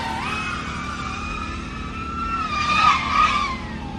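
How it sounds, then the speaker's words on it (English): FPV drone motors and props at full throttle on a LiPo battery, a steady high whine that climbs and wavers in pitch, swelling toward a louder peak near the end with no voices. "Give us some nice throttle pump while you stay on that thing."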